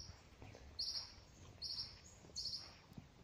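A small bird chirps three times in short bright bursts, spaced about a second apart, faint and distant in an outdoor setting near water with light background noise.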